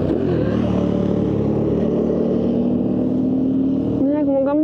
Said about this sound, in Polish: Obudziły mnie trochę motory tu jeżdżące.